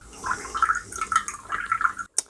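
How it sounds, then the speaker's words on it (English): Tap water pouring into a glass in a kitchen, a close, gurgling stream with bubbly rising tones over about two seconds, then a brief clink at the end. "Let me get some water."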